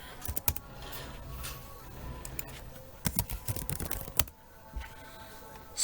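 Keystrokes on a Logitech G512 Carbon mechanical keyboard with GX Brown switches, irregular clusters of close, fairly quiet clicks and clacks with short pauses between bursts.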